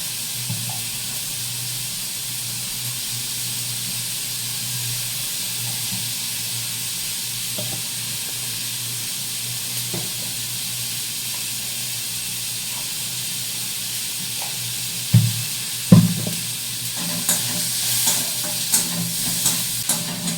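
Curry frying in a pan with tomato, salt and turmeric, a steady hiss and sizzle of hot oil throughout, then several close scraping stirs and clanks of the spoon near the end, with no talking.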